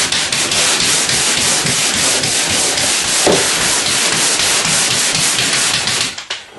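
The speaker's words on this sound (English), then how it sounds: "Sanding black marks out." Sandpaper rubbed by hand over a paneled wall to take off black marks, a steady loud scratchy rasp with rhythmic back-and-forth strokes that continues alone for several seconds before tapering off.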